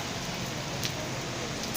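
Rain falls in Dammam, Saudi Arabia, as a faint, steady hiss of drops on surfaces, continuous and even with a few slightly sharper patters and no talk over it.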